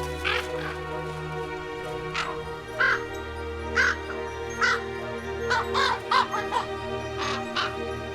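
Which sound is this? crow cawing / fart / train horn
crow cawing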